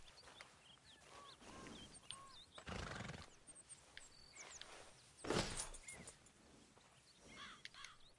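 A horse in the video game Red Dead Redemption 2 neighs and whinnies several times near a horse-medicine chest, with hoof clops, bird calls and insect buzz around it in a quiet outdoor scene.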